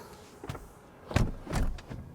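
A short mechanical whir followed by a couple of soft thuds, like a car window motoring shut, quiet and close with no talking.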